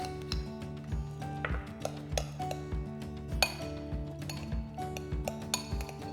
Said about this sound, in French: Je vais mélanger avec mes petites crevettes